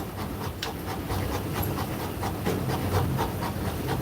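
Dog panting hard after exercise, a steady run of quick, rhythmic breaths held close and fairly loud throughout, with no talking.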